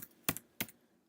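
Two sharp, close clicks of typing on a computer keyboard, spaced apart in an otherwise quiet room.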